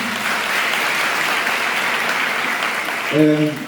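A crowd at a university regional council gathering on a campus claps in sustained, dense applause, with a voice briefly audible near the end.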